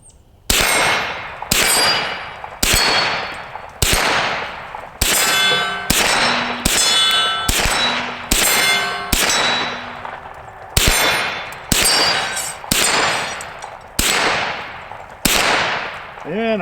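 A Ruger PC9 carbine fires about fifteen shots in a steady rhythm, each sharp crack followed by a loud ringing clang from steel target plates, with no talking.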